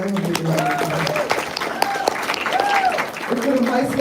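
Audience applause at a school music awards ceremony in Guam, steady and fairly loud, with a speaking voice and tonal sounds running over it throughout.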